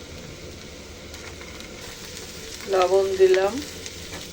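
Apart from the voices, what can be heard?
frying chili, onion and spices in oil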